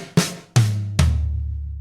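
A drum fill: a right-hand flam and a snare hit, then a rack tom and a ringing floor tom. The three close, loud strikes fall in quick succession, and the last low tom decays on its own.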